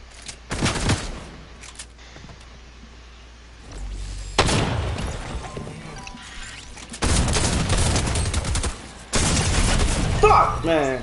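Fortnite gunfire: loud, rapid bursts of shots come in several separate volleys with quieter gaps between them, and a player's voice can be heard talking in between.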